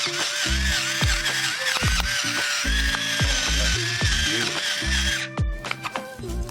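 A pepper mill grinds pepper onto a salmon steak being seasoned for pan-searing: a loud, close run of rhythmic ratcheting crunches, repeated in quick bursts over a steady hiss, with no talking.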